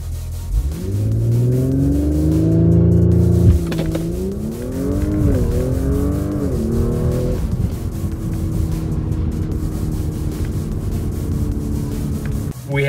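Audi S4 with an E85 Stage 1 tune and Stage 2 transmission tune launching hard from 0 to 60, engine roaring loud and close as it climbs through the revs with quick upshifts, then settling into a steady high-speed drone.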